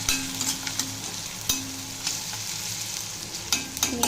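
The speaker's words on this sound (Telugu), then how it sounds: "ఉల్లిపాయలు కొంచెం బాగా వేగాలి" Onions fry in oil for a prawn and gongura dish, a steady close sizzle punctuated by sharp clicks and scrapes of a spoon stirring the pan at irregular intervals.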